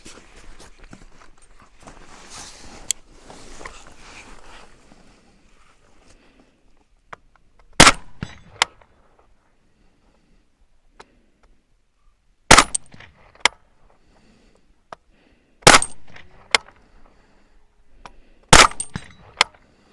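Suppressed shots from a Steyr AUG rifle chambered in .300 Blackout, four sharp loud reports spaced a few seconds apart outdoors, following a stretch of quiet rustling and handling noise.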